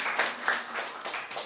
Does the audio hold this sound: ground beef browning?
no